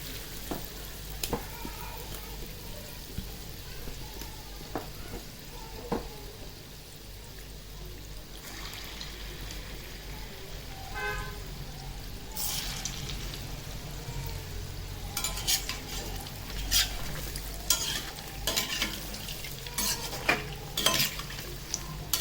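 Sweet gulgule dumplings deep-frying in hot oil give a continuous bubbling sizzle, broken by clinks and scrapes of a utensil against the pan that grow busier toward the end; no one speaks.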